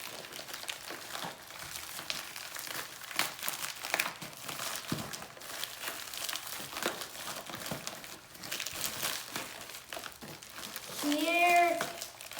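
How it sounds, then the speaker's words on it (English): AirPods product packaging is opened by hand, giving close, continuous crinkling and crumpling of plastic and paper with irregular bursts, and a short vocal sound near the end. "Am I gonna spend the whole video just opening the packaging?"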